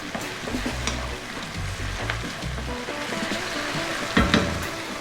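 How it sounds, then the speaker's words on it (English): Tomato paste and brown sugar sizzle in a hot pan for a Chinese fish dish, a steady frying hiss broken by repeated scraping strokes of a utensil stirring, with a sharper clatter near the end. "we're going to go for another 3 minutes, stirring pretty much all of the time"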